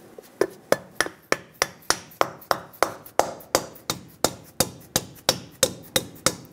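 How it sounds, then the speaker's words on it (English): Steady, rapid taps of a rubber mallet seat a cap onto a Chevrolet Silverado 2500 HD lower control arm, about two dozen crisp even knocks in a regular rhythm, close and without talk. "Take a rubber mallet, tap it into place."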